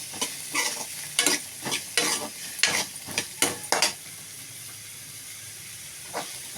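Pirandai (adamant creeper) fries in a generous pour of sesame oil, a soft constant sizzle broken by a run of sharp scraping stirs, about ten strokes in quick irregular bursts, then mostly quiet sizzling with one last stir.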